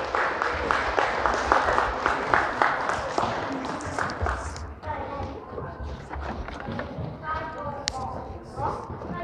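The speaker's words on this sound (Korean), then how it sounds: "우리 아이들이 멋진 어로 잘 자랄 수 있도록 우리 박수 한번 보내주시면 좋겠거든요" A church congregation applauds as the children's departments and their teachers file out of the service, dense clapping filling the room for several seconds before easing into scattered claps, shuffling and murmuring voices.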